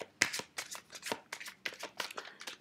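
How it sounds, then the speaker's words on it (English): Tarot or playing cards shuffled by hand at close range, a quick irregular run of crisp riffling and slapping bursts, quiet and with no talk. "they wanted me to shuffle the cards and put them out while I was videoing this"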